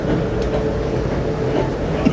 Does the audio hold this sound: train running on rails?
yes